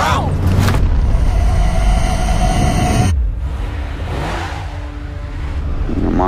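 A car engine revs and accelerates loudly while a child drives, with a strong continuous roar that dips midway and builds again, cinematic trailer mix with voices speaking over it.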